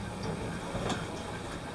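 Swiss mountain train rolling from Eigergletscher toward Wengernalp, a steady low rumble with faint wheel clatter and one brief louder clack midway, heard from inside the carriage with no talking.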